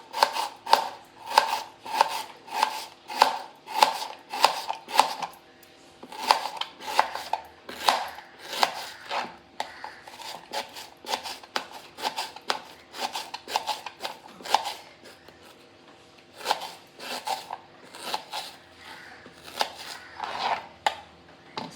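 A knife thinly slices an onion lengthwise on a board for chicken dum biryani, with quick rhythmic chopping in close, steady runs broken by short pauses.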